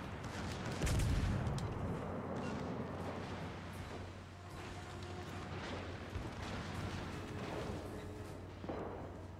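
Warship guns in World of Warships Legends boom in a deep rumbling salvo, a heavy low blast early on followed by sustained battle rumble and faint distant impacts.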